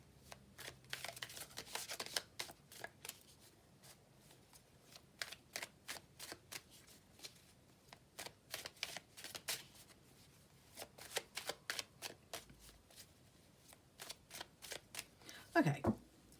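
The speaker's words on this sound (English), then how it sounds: "I'm just about to have a little shuffle of the black and white Faulkner deck" A black and white Faulkner tarot deck is shuffled by hand in rapid crisp riffles and clicks, coming in repeated bursts with short pauses, close up and clear.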